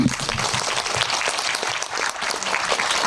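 Steady applause from an audience at a Q&A session during the Seoul Independent Film Festival, many hands clapping together at an even level for a few seconds, with no talking.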